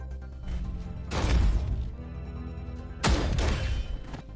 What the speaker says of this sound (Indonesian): Dia menembakkan sebuah peluru dari tank ke arah Sobok